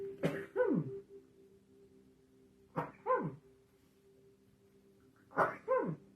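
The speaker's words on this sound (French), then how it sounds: "attendez, je vais éternuer" A man sneezes three times at steady intervals, each a sharp two-part burst with a short intake and explosive release, close and clear in an otherwise quiet room.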